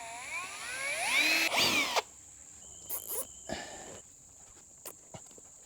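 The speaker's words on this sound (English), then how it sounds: "I'm just going to drill a hole in the back of each one of these Bato buckets" A power drill whines up close for about two seconds as it bites through a plastic Bato hydroponic bucket, followed by scattered clunks and handling noises.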